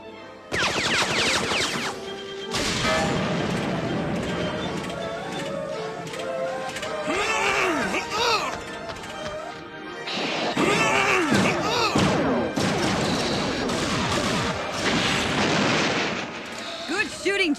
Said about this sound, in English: Good shooting, JT.